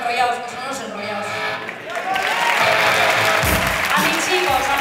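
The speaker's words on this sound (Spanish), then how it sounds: "Yo creo que los Skype y Pitipa se merecen un aplauso por enrollados" An audience at a Halloween-night event applauds, a broad swell of clapping that grows fuller after the start and holds steady, with voices mixed in underneath.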